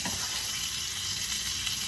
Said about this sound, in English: we're just going to throw these sausage patties in the same pan with the potatoes